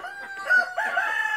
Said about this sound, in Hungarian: Ezt meg kell mutatnom, a fogyatékos kakas.